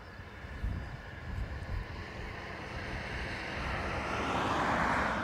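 An ATR turboprop airliner powers up for takeoff on runway 28 right at Dublin Airport, a broad engine roar swelling steadily and growing louder over several seconds, with wind buffeting the microphone.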